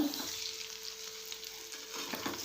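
Eggs frying in oil in a covered pan, a continuous soft hissing sizzle with light crackle, steady and close throughout.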